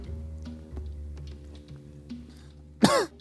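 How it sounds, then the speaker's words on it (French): A man coughs once, a single sharp close burst near the end, after quiet low background noise and a few faint clicks. "Pourquoi je tousse?"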